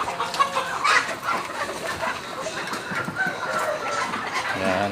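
Ducks being caught for a meal on a Filipino farm, with loud fowl squawks and clucking calls rising and falling through a busy, noisy scene, the cries overlapping continuously.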